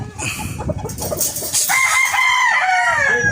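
Gamefowl battle cock at a game farm in Batangas, clucking near the mic before one loud, drawn-out crow rings out through the second half.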